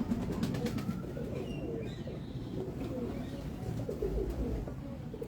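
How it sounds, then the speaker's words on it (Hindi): Pigeons kept for training and flying coo softly and repeatedly nearby, with light chirps over a low background murmur that may include distant voices. "ये एक कबूतर अब और दिखा दें बस, मियां नदीम बशीर साहब के हाथ का कबूतर।"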